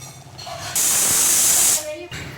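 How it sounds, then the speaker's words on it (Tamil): Pressure cooker whistle while cooking mutton biryani on a stove, one loud sharp steam hiss lasting about a second, near and alone with brief quiet before and after. "ஒரு விசில் வந்துருச்சுங்க"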